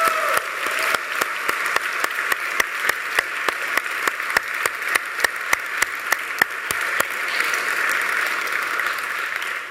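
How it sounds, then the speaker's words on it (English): An audience at the LXJS 2013 JavaScript conference in Lisbon claps, beginning in a steady burst that settles into slower, rhythmic, evenly spaced claps, fairly loud and filling the room for nearly ten seconds. "I actually think that it deserves some like actual applause."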